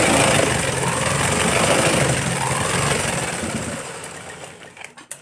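A sewing machine stitches a straight seam on a sleeve with a steady, close whirring run that slows and fades near the end, followed by a few light clicks.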